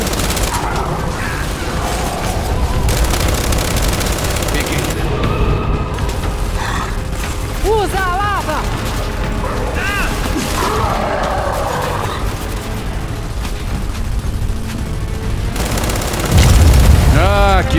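Gunfire in Gears 5 on insane difficulty, shooting at rocks amid a continuous roar of battle: booms, mechanical clatter and bursts of shots, loud throughout, with character voices speaking over the action.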